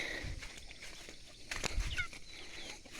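Chickens on a farm in the morning cluck and call in short bursts over a low, rustling background, with no voices.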